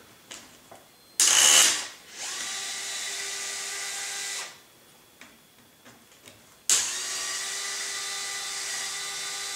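A power screwdriver removes screws from the tail boom area of a Trex 700E radio-controlled helicopter, giving two close, loud high-pitched whirring bursts separated by small clicks and handling taps.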